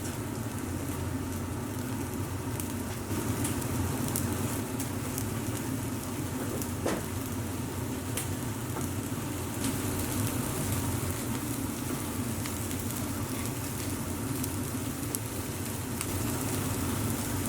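Harissa lamb kebab skewers sizzling steadily on a hot cooking surface, a dense, even crackle close by with occasional sharper pops and no talking.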